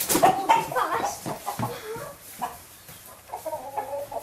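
Several chickens cluck and squawk inside a chicken house, loud and close at first, then settling into softer, irregular clucking with a few rising calls near the end.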